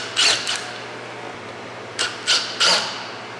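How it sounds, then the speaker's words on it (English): Door panel screws being removed from a Dodge Charger, a handful of short squeaky rasping scrapes in two clusters, close up, with quiet pauses between and no talk. "we'll go ahead and get our 2 screws out."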